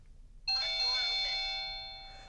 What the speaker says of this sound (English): you saw how that doorbell chime is very long